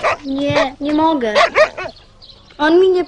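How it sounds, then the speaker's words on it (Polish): A dog's short barks and whimpering yelps in a Polish television drama scene at a cellar stairway, close by and mixed in with people talking. "Nie bój się go. To mój pies."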